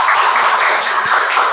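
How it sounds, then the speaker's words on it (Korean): Congregation applauding during a Korean Sunday church service, a steady dense wash of clapping filling the room without a break, fairly loud and close. "우리 강현수 집사님 더 건강하기를 위해서 우리 박수로 한번 우리"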